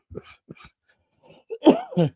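A few short, sharp coughs close to the microphone, spaced over a couple of seconds, ending in a harsher, throaty cough.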